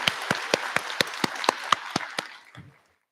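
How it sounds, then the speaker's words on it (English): At a virtual class of 2024 commencement ceremony, an audience claps in a quick, even rhythm of distinct sharp hand claps that thins out and stops after about two and a half seconds. "let's give them a round of applause."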